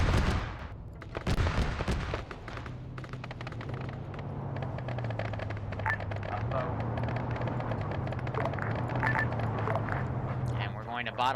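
Scattered gunshots in a first-person shooter video game sound at moderate distance beneath steady conversational talk, with a low droning hum in the background.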